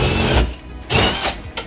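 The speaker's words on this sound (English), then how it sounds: "Now that I have my hole drilled to the attic" A power drill bores a hole up into the attic ceiling to run flex conduit for an EV charger's wiring. It comes as three loud, whirring bursts with short pauses between them.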